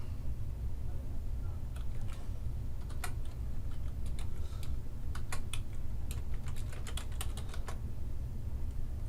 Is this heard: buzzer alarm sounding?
no